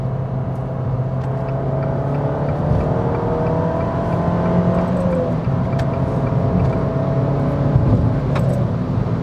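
Abarth 595 Scorpioneoro hot hatch with 165 horsepower pulling hard under acceleration, heard from inside as a loud, continuous engine drone with rising tones over steady road rumble.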